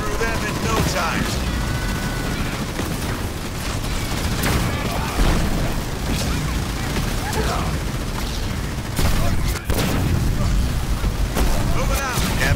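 Dense, continuous gunfire and heavy explosions from a ground battle in the strategy video game Halo Wars 2, with bursts of automatic fire and booming blasts throughout and game voices talking over the din.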